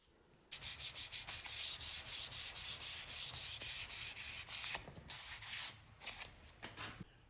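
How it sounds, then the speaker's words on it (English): A wooden frame is hand-sanded with fine 320-grit sandpaper in quick, even back-and-forth strokes. The close, rhythmic rasping runs steadily, then slows and breaks into a few separate strokes near the end, with no talking. "I just finished sanding the frame with 320 sandpaper"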